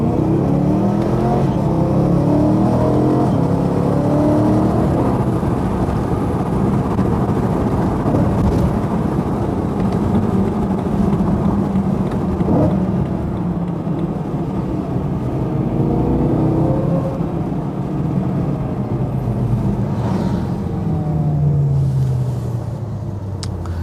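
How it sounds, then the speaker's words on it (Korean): A BMW M3 E92 with a naturally aspirated V8 is heard from inside the cabin while driving with the window slightly open, giving a steady deep engine drone that rises and falls as it revs up and settles back. "확실히 이제 V8 자연흡기 엔진이기 때문에 이 주행 감성이 정말 좋은 차량입니다"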